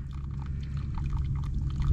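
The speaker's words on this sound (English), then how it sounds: "here's our main tile outlet that drains the field" Water pours steadily out of a field drain tile outlet on a farm, a close, continuous rushing and splashing flow with a strong low rumble.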